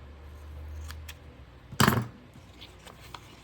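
A single crisp snip of scissors slicing through a sticker sheet, close and clear, followed by a few faint paper rustles and light taps in an otherwise quiet room.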